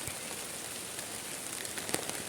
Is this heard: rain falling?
yes